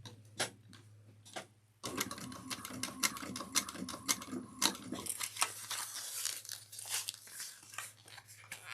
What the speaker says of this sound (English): We're going to top stitch this now at 1/8 of an inch.